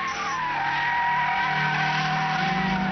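A Peugeot 306, a front-wheel-drive hatchback, driven hard at speed, its engine note rising steadily and loud and close, with a strained tire-squeal edge running through the whole stretch.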